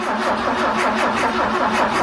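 A 1968 BMW engine that sat for over ten years runs roughly just after starting. It gives a loud, close, uneven chugging with a steady pulsing beat and no voices.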